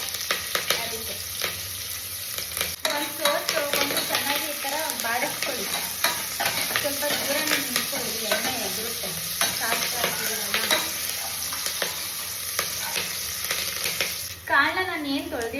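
Onions frying and stirred in hot oil with asafoetida for a peas masala sambar: a steady, loud sizzle with repeated scraping stir strokes throughout, then a brief shift near the end.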